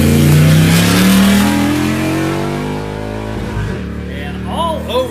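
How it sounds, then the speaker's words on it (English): A Tribe 16 Ultra 4 off-road race car launching in qualifying at the Big Sky 200 in Broadview, Montana: a loud, close engine roar climbs through rising revs, then fades into rough gravelly ambience with brief noises. "Matt Torney takes off like a rocket with John Cahy riding shotgun in that Tribe 16 Ultra 4 machine"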